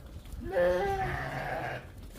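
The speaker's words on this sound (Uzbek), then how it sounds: "mana sariq qo'ylarimiz, mana qizg'ich sariq" A single sheep of the Arasham breed, in Namangan, Uzbekistan, lets out one drawn-out, wavering bleat close by, lasting about a second and a half.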